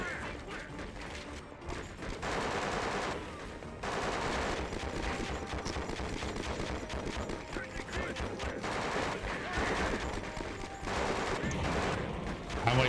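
Near-constant automatic gunfire rattles through a firefight in the PS2 game Conflict: Desert Storm 2, played on hard difficulty, with dense overlapping bursts and a short lull near the start. A voice can be heard faintly in the mix.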